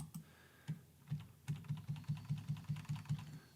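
Computer keyboard keys pressed in a Microsoft Word session, a quick, even run of about a dozen light clicks following a few scattered taps, soft and close with no speech.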